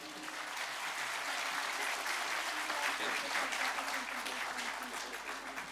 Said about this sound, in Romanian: Aplauze pentru Alin.